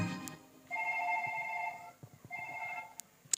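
A phone rings in two bursts of electronic ringtone, a short pause between them, fairly clear and alone with a few faint clicks around it.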